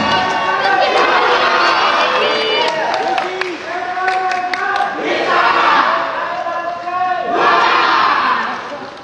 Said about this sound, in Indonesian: Mari kita berikan tepuk tangan yang paling meriah.